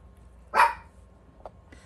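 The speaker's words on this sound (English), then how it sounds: "my dog's barking in the background" A dog gives one loud, sharp bark in the background of a quiet indoor room, followed a moment later by a fainter short yip.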